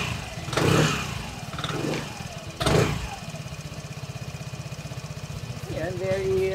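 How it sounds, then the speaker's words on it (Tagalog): A Vespa Sprint S150 scooter idles through its stock muffler, a steady low, quiet putter with a fine regular pulse, close by, with bursts of talk and handling noise over it at a couple of points. "sound check muna tayo dito sa stock muffler natin"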